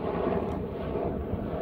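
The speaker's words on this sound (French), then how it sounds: "j'attends juste que l'hélicoptère passe et comme ça on peut continuer." A helicopter passes overhead as a continuous, broad, steady roar that is fairly loud and fills the whole moment without rising or falling much, with no talking over it.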